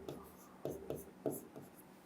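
A pen scratches across paper while notes are handwritten, a handful of soft, close strokes arriving in an uneven rhythm, quiet and without speech.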